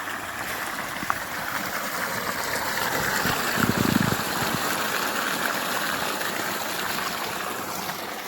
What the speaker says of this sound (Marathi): हे बघा पाणी बघा केवढं येते.